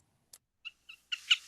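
A bird gives a few short, thin calls separated by pauses, ending in a slightly louder, rougher burst, faint against silence.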